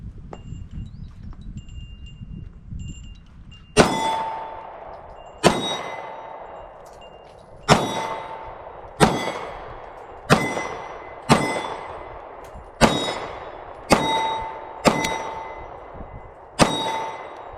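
Ten sharp pistol shots from an SCCY CPX-1 crack at an outdoor range, each a loud, close report with a ringing decay, fired at a steady pace of roughly one per second after a quiet, windy lead-in.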